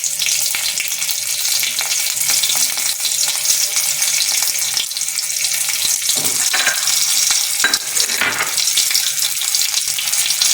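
Green chillies fry loudly in a pan for a Bengali fish curry with mustard and poppy seeds, giving a steady, dense hiss with a few stirring scrapes and brief sharper crackles, and no voices.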